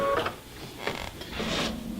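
A sewing machine stitching a buttonhole, with soft rhythmic mechanical whirring and clicking bursts at close range, fairly quiet.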